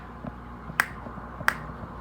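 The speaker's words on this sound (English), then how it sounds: "See if I can snap a little louder with the door open." Two sharp, clear finger snaps about a second apart, made one-handed by a person holding a camera near an open door, standing out against a quiet background.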